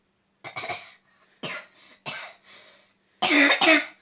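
Several harsh coughs from a close voice, in short bursts with pauses between, ending in a louder double cough.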